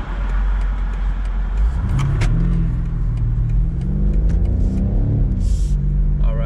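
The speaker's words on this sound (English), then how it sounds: "Let's see what this car can do." A 2020 BMW M850i Cabriolet accelerates hard on a twisty road, its engine note climbing and falling through gear changes, loud and close, with a rumbling exhaust and no voices.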